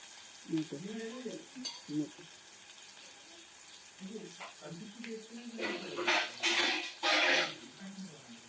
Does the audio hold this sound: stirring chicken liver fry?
yes